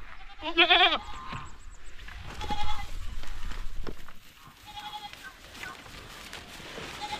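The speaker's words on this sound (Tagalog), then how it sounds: "At yung mga kambing natin, oh." Goats bleat loudly nearby, a sharp wavering cry at the start followed by more calls, with a person talking in between.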